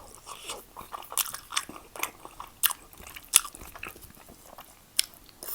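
Close, crunchy chewing and biting of Indomie goreng noodles, with repeated wet crunches and sharp bites in an irregular rhythm, heard alone without talk.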